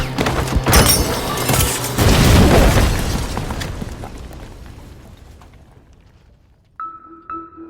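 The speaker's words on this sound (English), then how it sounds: "the shattering of the glass and this smart grenade choosing to detonate the moment it hits the center of the room" Glass shattering followed by a smart grenade detonating in the center of a room, a loud booming burst with crackling debris that decays over several seconds before a brief electronic tone.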